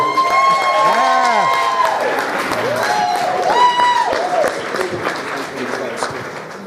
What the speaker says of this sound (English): how about a giant round of applause for Allie?